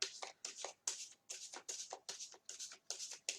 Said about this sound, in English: So I am going to shuffle the cards.